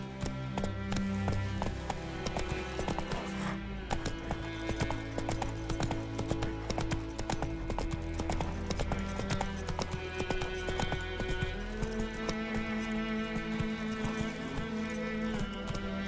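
Hooves of Roach, a horse in The Witcher 3 video game, trotting in a steady quick clip-clop rhythm over game music, with a brief whinny.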